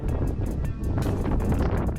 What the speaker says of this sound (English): from that last clip, how windy it was